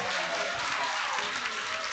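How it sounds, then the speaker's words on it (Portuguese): A crowd applauds a woman at a public policy meeting, a dense, even wash of clapping filling the whole moment. "Vamos aplaudir essa mulher aqui"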